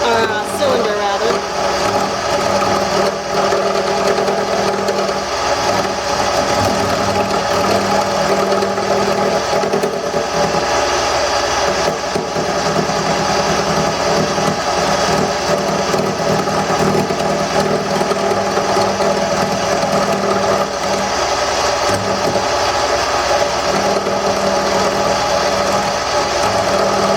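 A wood lathe roughs an ambrosia wood tool handle into a cylinder, giving a steady loud mechanical whir with continuous gritty cutting noise throughout, with a person talking faintly underneath.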